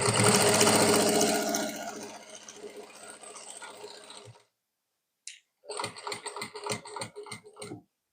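A sewing machine stitches a belt onto a ready-to-wear saree: a loud continuous whir at first, then a pause, then short bursts of stitching in quick rhythmic pulses.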